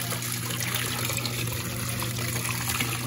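An LG Prime Touch WD10WP6 washer-dryer draining hot, dirty water, a steady loud rush and trickle of water with no talking.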